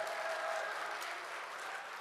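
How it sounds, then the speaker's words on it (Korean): Applause from a crowd at a Democratic Party political rally in Sunchang, a steady patter of clapping that stays fairly soft and slowly fades over two seconds with no voices. "여러분들 박수 한번 주시면 감사하겠습니다"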